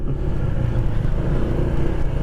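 A 2023 Honda ADV160 scooter rides along with a steady, close engine drone and road rumble, constant throughout with no talking.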